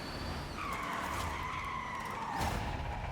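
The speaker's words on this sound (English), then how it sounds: "Drifting it through the finish." Car tires skid and squeal through a long drift in the Forza Horizon 5 racing game, an all-electric single-speed car sliding to the finish, with a steady engine whine under loud continuous tire noise.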